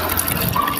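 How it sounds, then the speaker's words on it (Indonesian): Water from a wulung coconut is poured out in a short, close, continuous splashing gush, fairly loud and alone. "Kita akan tuangkan dulu airnya."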